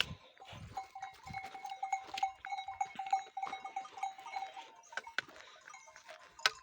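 Young goat kids and sheep on a high mountain pasture in Turkey, with faint repeated bleats and a cowbell clinking steadily through the quiet, sparse and somewhat distant.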